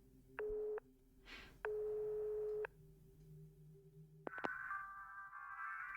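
Telephone line tones after a receiver is picked up in the game Lorelei and the Laser Eyes: two short steady beeps, a low hum, then a sharp click and a higher warbling ring tone, clean and moderately loud with no talk.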